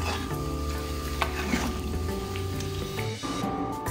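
Beef sizzling and frying steadily in hot oil, a continuous close crackle with faint stirring scrapes and a few utensil clicks, no talk over it.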